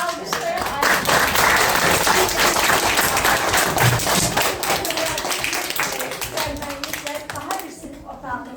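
Audience applause at a school classroom naming ceremony for Major Ayda Shirinova, dense clapping from a nearby crowd that holds steady, then thins and fades out.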